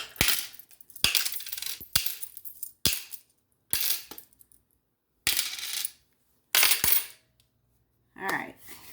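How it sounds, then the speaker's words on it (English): Coins drop one after another into a purse, a series of about eight bright metallic clinks and jingles with short pauses between, close and clear with no talking. "so coins will go in here"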